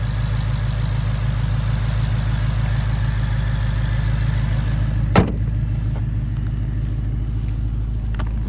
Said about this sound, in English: There's that 5-liter naturally aspirated V8